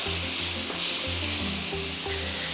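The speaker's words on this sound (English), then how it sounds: "fresh minced garlic we're gonna put into there. We're just gonna stir that in and let the heat start to do it." Minced fresh garlic sizzles steadily in a skillet over medium-high heat, a continuous close hiss with a low rhythmic tonal hum underneath and no talking.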